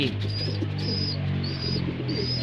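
A 17-day-old young racing pigeon gives a few thin, high squeaks in a short repeating series, close by over a steady low background hum.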